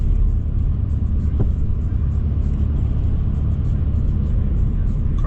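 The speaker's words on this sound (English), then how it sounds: "Gradually get on the gas, throttle, approaching the green light." A car rolls toward a green light at a three-way intersection while the driver eases onto the throttle, heard from inside as a steady, even engine and road rumble with no sharp rise in pitch.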